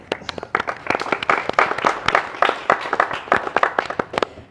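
Students applaud at a school, dense steady clapping that carries on without a break.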